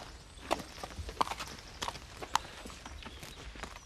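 A single horse walks with hooves clip-clopping in an uneven rhythm at moderate distance, fairly quiet, with a faint background hush.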